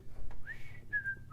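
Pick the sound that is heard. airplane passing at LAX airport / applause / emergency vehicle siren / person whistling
person whistling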